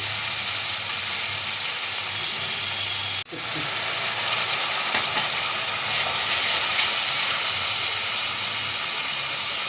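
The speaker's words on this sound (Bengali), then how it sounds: "আদা রসুনের বাটা পেঁয়াজ আদা রসুন একসঙ্গে একটু ভেজে নিচ্ছি" Onion, ginger and garlic paste frying in a pan, a steady, loud broadband hiss and sizzle running throughout, with one brief sharp dip partway through and no talking.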